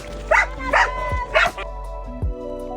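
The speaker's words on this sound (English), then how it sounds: "all while trying to avoid this really angry dog." Three sharp, loud barks from an angry dog come close together at close range, followed by a short, quieter yip or whimper.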